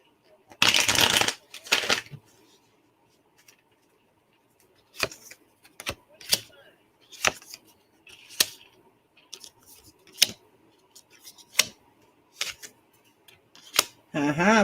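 Tarot cards are handled up close: a loud riffling shuffle opens, followed by a string of sharp, separate snaps and slaps as single cards are flicked and laid down at irregular intervals.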